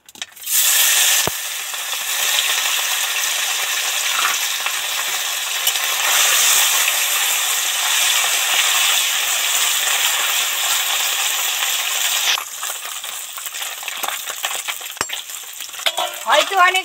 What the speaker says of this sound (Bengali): গরম হয়ে গেছে, এবার মাছগুলো আস্তে আস্তে ওর মধ্যে সব কটা উঠিয়ে দেবো।